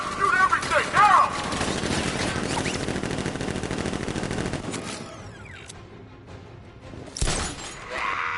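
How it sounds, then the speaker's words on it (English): Militia ambush gunfire in Batman: Arkham Knight, with dense bursts of rapid automatic shots and a sharp shattering crack, loud and continuous before thinning out, with a late blast. "Open fire! Shoot everything, now!"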